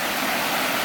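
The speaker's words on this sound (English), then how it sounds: "The river's beautiful." Steady broadband rush of a river flowing through the Santa Margarita Preserve, a continuous, fairly close wash of water with no talking over it.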